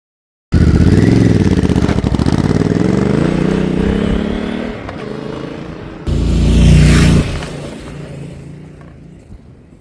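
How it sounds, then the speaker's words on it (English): A 2025 Honda Africa Twin adventure motorcycle rides along with a loud, close engine drone that shifts pitch as it accelerates, dips briefly, then surges again before easing off. "after a full day in the saddle on the Honda Africa Twin, I'm now riding home"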